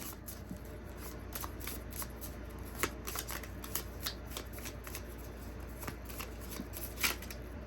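A deck of tarot affirmation cards is shuffled close by, with a continuous soft riffling and flicking of card edges that carries on steadily for several seconds, quiet and without speech.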